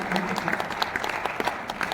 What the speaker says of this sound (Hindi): और कमिश्नर साहब जो पढ़ा रहे हैं उनके लिए भी जोरदार ताली